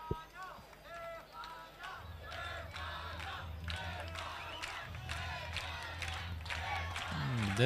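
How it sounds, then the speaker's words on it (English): Crowd at the IMCF Championship in Belmonte 2023, a mass of chanting and shouting voices rising in waves, with rhythmic collective calls and swelling toward the end, talk mixed in. "The crowd is hyping up again."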